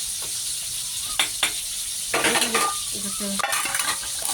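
A potato sizzles as it fries in a hot pan, a steady hiss broken by scraping stirs and clinks of utensils against the pan, close up with no talking.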